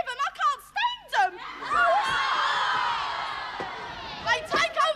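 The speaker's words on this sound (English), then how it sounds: "What's all this screaming about?" A studio audience screams at a pop group on a 1976 Thames Television show, loud and sustained high shrieks and cheers that swell between bursts of close talk.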